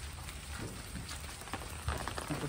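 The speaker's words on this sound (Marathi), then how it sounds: "पाऊस पडते भरपूर." Faint, steady rain patter with scattered soft drips, a continuous hiss in the distance.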